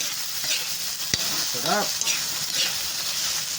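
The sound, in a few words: squid frying in a pan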